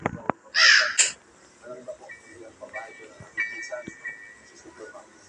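A crow caws in a short burst near the start, loud and close, followed by quieter household sounds and some talk in the background.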